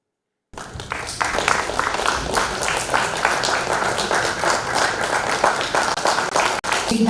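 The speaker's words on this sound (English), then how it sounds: "A huge round of applause for Oishani." An audience claps for an Odissi dancer at a national dance competition, a sudden dense burst of applause that holds steady for several seconds and then thins slightly.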